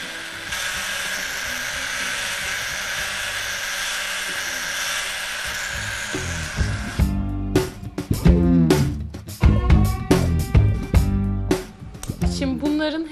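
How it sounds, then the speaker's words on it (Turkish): A drill whines steadily and evenly for several seconds, then cuts out, and people start talking in the quiet that follows. "O zaman ben şöyle delmeye devam edeyim."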